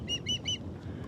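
Ospreys by a lake give three loud, evenly spaced, high piping calls in quick succession, then fall quiet over steady low background rumble.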